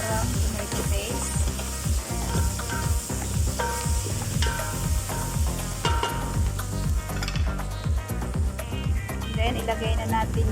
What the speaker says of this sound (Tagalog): nilagyan ko siya ng 2 kutsarang tomato paste